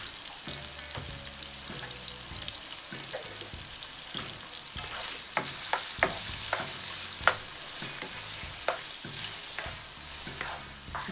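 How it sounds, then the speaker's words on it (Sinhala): Pork stir-fries with ginger and spring onions in a hot pan, giving a steady sizzle broken by repeated spatula scrapes and sharp clinks. No one talks. "හැඳි ගගා ඉදෙනකන් මේ ආකාරයට බැද ගන්න"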